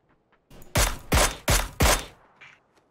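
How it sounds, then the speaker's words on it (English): Four heavy gunshots boom in quick succession in a shooter video game, loud and close, with a couple of faint clicks before and after and no talking. "he just shot at me again"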